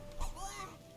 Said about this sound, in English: I can hear that. It's a cat!